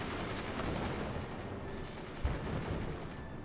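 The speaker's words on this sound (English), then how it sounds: "God, that bait mortar is working ridiculously well" Mortar fire in the strategy game Forts, heard as a dense, continuous barrage of overlapping booms and crackles at steady loudness, with one sharper thump standing out partway through.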